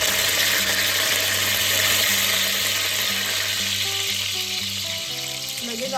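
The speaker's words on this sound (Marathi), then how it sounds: "बघा आता तेल गरम झालेलं आहे, यात आपण कढीपत्त्याची पानं सोडूया।" Curry leaves dropped into hot oil, ready for a ginger, garlic, coriander and chili paste in a soyabean pulao, crackle and sizzle loudly and steadily in a pan, with no talk over them.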